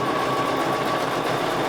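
A sewing machine runs continuously while stitching binding onto a mini sampler quilt, a steady fast whirring hum at close range with no pauses.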